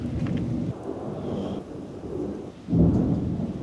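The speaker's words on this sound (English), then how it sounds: "it's not just raining, it's storming." A thunderstorm with steady rain, deep thunder rumbling in long swells, one growing louder near the end, no voices.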